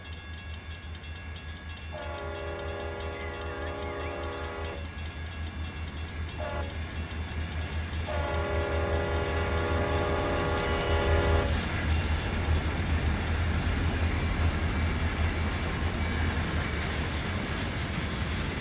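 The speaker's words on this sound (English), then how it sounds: "watch the trains go by" Trains roll past a Florida rail-fan spot on the CSX A-Line in the Run 8 train simulator game, with a steady low rumble and two long, loud horn blasts, then the rumble builds as a train draws closer.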